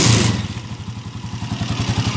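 A Honda TMX155 motorcycle engine, converted to five-speed, idling close by with a steady, throbbing putter.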